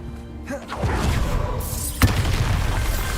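Spell explosion from the Bombarda curse in the Hogwarts Legacy video game, a broad rumbling blast that builds and peaks in a sharp thud near the middle, set against a dense game soundscape.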